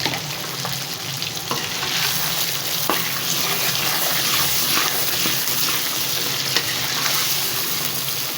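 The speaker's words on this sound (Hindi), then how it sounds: "दही भी अच्छे से भून चुका है, मसाला भी तैयार हो चुका है।" Chicken Shinwari karahi masala with yogurt fries in a karahi, a loud, dense, continuous sizzle with faint scraping stirs throughout, close up and without talk.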